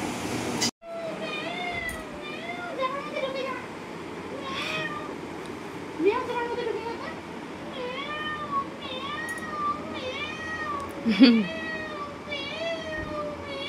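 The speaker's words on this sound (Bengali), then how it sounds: "ম্যাও ম্যাও ম্যাও আসছে তোমার কাছে" A cat meows repeatedly, several drawn-out calls spread across the span at close range, with human voices talking quietly in the background.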